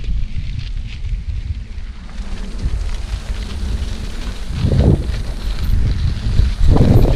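Rain falls on a tent in the Icelandic mountains as a dense, continuous patter with wind rumble, and a couple of heavier gusts or drumming swells toward the end.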